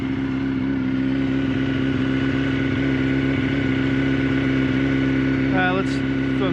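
A warmed-up 2005 Yamaha R6 motorcycle engine idles with a steady, loud drone and then revs briefly near the end, heard up close.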